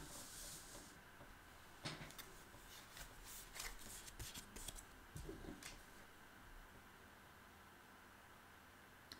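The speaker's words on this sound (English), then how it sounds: "You're watching me shuffle the cards." Tarot cards are shuffled close by in soft, repeated riffles and flicks, with occasional sharper snaps over a faint hiss of background noise.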